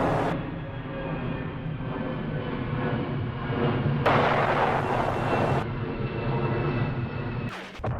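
Artillery shelling during the 1968 battle of Khe Sanh in the Vietnam War rolls as a sustained rumble of overlapping booms, swelling into a heavier barrage midway before easing, with no speech.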